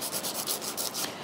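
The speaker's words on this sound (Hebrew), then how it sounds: "לשייף קצת את הציפורן הטבעית" Rapid back-and-forth rasping of a nail file on a natural fingernail, a close, steady scratchy stroke repeating about seven times in a quick rhythm.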